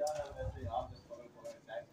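A female pigeon, disturbed while brooding on her eggs, gives soft, low cooing calls up close, partly covered by someone talking over them.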